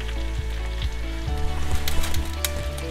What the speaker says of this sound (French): Trentaine de minutes que les pommes de terre cuisent.